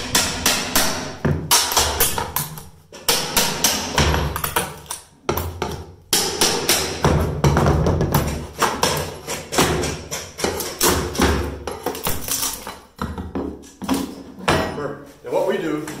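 Nails of a carpet tack strip being pried up from a wood floor during floor refinishing prep, giving repeated sharp knocks and thuds in a busy, dense series over most of the stretch, with a voice talking at times.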